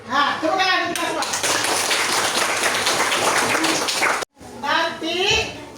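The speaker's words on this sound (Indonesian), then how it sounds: "tepuk tangan kita semua" Classroom group applause for a lesson on the water cycle, a dense burst of many hands clapping together for several seconds, with a voice speaking before and after.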